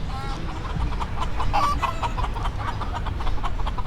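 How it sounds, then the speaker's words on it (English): A flock of exotic birds near Clearwater Beach, Florida, keeps up dense, continuous chattering and clucking calls close by over steady outdoor background noise, with no clear speech. "There's a lot of exotic birds."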